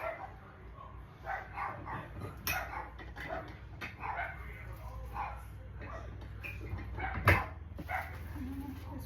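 Dogs bark and yip in a home kitchen while plantain tortillas are being made, a scatter of short barks and whimpers with someone talking over them.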